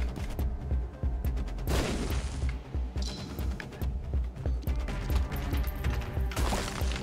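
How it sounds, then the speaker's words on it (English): Bomb explosions in Binding of Isaac: Repentance, with mega and locust bombs, go off as a string of booming blasts and crashes layered over steady game music, several detonations spread across the stretch. "I'll be generous with my bombing."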